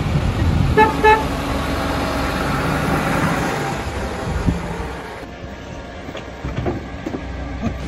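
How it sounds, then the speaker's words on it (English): Large garbage truck sounding its horn, a few loud toots near the start over a steady engine rumble, then the idling fades to lighter clanks and traffic noise. "Garbage truck."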